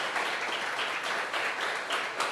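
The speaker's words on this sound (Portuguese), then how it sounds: "Pode dar uma salva de palmas para Jesus?" A church congregation fills the room with continuous, moderately loud applause, a thick crackle of many hands clapping with slight swells and no voices over it.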